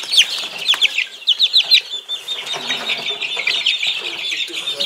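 In a poultry yard with several young roosters and hens, bursts of shrill, rapid cheeping and clucking come up close, strongest early on, then settle into a softer continuous chatter.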